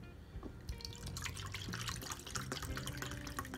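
Apple cider vinegar pours from a container into a measuring cup for a vinegar barbecue sauce, a soft trickling, splashing liquid stream heard up close and quiet.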